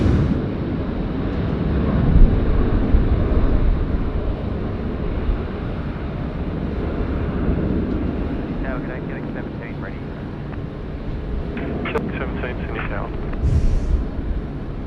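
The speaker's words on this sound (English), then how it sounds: "we're going to be watching the All Nippon Airways rip one off 16 right" An All Nippon Airways airliner takes off from runway 16 right at Sydney Airport, a loud sustained jet roar rising and rumbling throughout, with voices talking over it.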